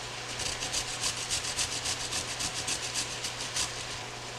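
A carrot grated on a hand grater gives rhythmic rasping strokes, about a dozen rough scrapes in steady succession, close and fairly loud, with no talking.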